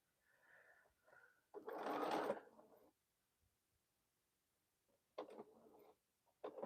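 A home sewing machine used for quilting runs in short, faint bursts of whirring stitches separated by quiet pauses, the longest burst near the start and two brief ones toward the end.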